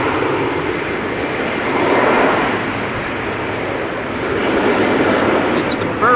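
Embraer 190 airliner at rainy Amsterdam Schiphol Airport, a steady broad engine roar from a passing aircraft that swells and eases, with rain-wet airport ambience around it and a faint voice near the end.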